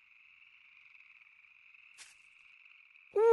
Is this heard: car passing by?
no